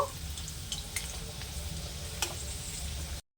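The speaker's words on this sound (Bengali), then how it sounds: "এখন উপরের দিকটা ভাজার জন্য উল্টিয়ে দেব" Steady oil sizzling and crackling from chicken meatballs frying in a pan, continuous and close, with a few sharper pops and clinks, then abrupt silence at the end.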